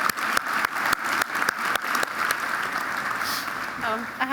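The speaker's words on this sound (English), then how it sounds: "One big round of applause." An audience at a chamber of commerce annual meeting gives a round of applause, with separate sharp claps at first that thin into a softer wash, and a voice speaks over the end.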